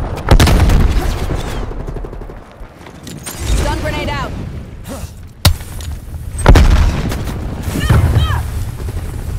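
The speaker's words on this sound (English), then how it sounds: "Stun grenade out." A stun grenade goes off in Call of Duty: Black Ops Cold War, sounding as sharp booming thuds with bursts of gunfire amid busy game noise, while a voice talks over it.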